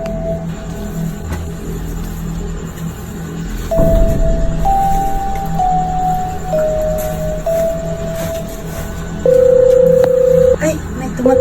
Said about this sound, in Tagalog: Ay, may tumatawag.